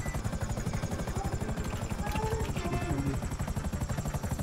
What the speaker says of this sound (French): Casse-toi avec l'hélicoptère.